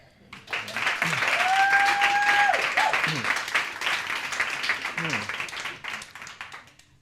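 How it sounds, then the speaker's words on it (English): An audience at a college writing center reading applauds student poets, the clapping rising quickly, holding strong with a whistle early on, then thinning and fading as voices emerge underneath. "another round of applause"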